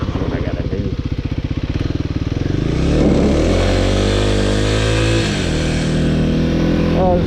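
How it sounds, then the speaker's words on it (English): A 2026 Kawasaki KLX300 dirt bike pulls away as the clutch is eased out, its engine first chugging in an uneven low pulse, then rising in pitch as it gathers speed. The engine note is loud and close, and no one speaks over it. "I think because I'm slowly letting the clutch out, I'm not dumping it."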